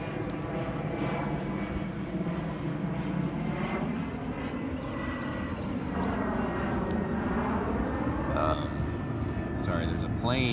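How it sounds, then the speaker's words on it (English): Propeller plane flying overhead above an urban permaculture orchard in late winter, a steady broad engine drone that holds for the whole stretch under a person talking. "there's a plane flying overhead"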